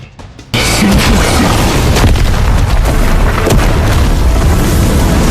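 An explosion effect from an animated Chinese fantasy donghua, where a cultivator self-destructs: after a brief quiet lead-in, a huge, dense roaring blast bursts in and rumbles on loudly and steadily to the end.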